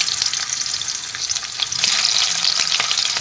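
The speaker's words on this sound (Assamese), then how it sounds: "এতিয়া মই মাছকেইটা অলপ ফ্ৰাই কৰি লওঁ" Fish frying in hot oil in a wok, a bright, dense crackling sizzle with small spattering pops, close and continuous.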